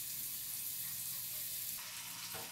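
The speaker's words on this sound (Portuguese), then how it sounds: "Ó, refoguei o alho. Deixa eu dar uma douradinha" Garlic sautés and browns in a pan for Northeastern Brazilian couscous, giving a steady, fairly quiet sizzling hiss with a slight shift in tone toward the end and no talking.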